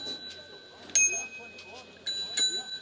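A bicycle bell rung by hand, bright metallic dings in two or three quick bursts, with soft talk and handling noise between the rings.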